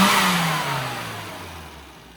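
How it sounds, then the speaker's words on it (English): Car engine after carburetor tuning, a single quick rev that starts loud and close, its pitch sliding steadily downward as the revs die away over two seconds. "Let's give it a quick rev and send the owner out in it."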